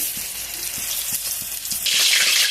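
Green banana and egg fritters (bora) sizzle in hot oil with a steady close-up hiss. Faint regular taps sound beneath it, and the frying swells into a louder, brighter crackle near the end.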